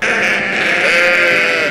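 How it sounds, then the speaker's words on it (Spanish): A sheep gives one loud, sustained, wavering bleat, close by and filling the short clip on its own. "Y oveja."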